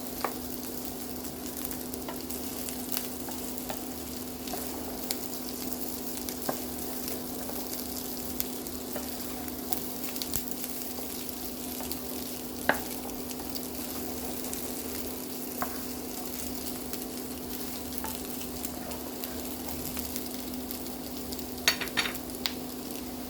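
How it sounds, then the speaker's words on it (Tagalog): Moghrabieh pearls fry and sizzle in a hot pan for a Lebanese chicken dish, a steady crackling hiss with occasional sharp pops and scraping as the pan is stirred, close and continuous throughout, with no talking. "let's add our Moghrabieh. Let's fry for also about a minute."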